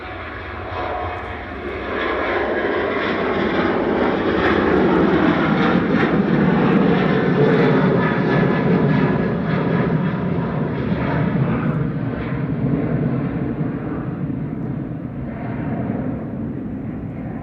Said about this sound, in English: Ryanair 9HQCR on the rolls, flight 6879.